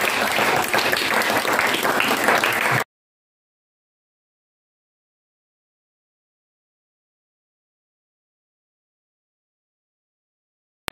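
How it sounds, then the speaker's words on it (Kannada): Applause from an audience at a National Science Day celebration after a student's experiment demonstration, dense clapping for under three seconds before cutting to silence. "ಚಪ್ಪಾಳೆ."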